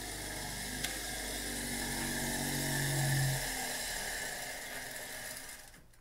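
A bench grinder fitted with a diamond cup wheel on a homemade flange spins up and runs with a steady high whine and hum, then winds down near the end, loud and close with no talking.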